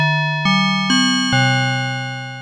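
A clangy, metallic bell-like tone from the Cherry Audio Sines synthesizer rings out in a short sequence of four stepped notes, each struck sharply and sustaining with a slow release, alone and clear.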